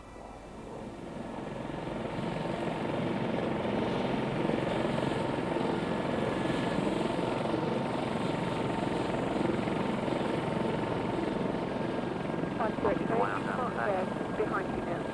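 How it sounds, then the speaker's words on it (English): British Army Lynx helicopter starting up during a ditching procedure exercise, the engine whine and rotor noise building over the first few seconds into a steady, loud drone, with crew voices talking over it. "requesting engine and rotor start, outbound to Antwerp"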